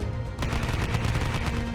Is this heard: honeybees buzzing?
no